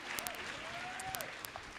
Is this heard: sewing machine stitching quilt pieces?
no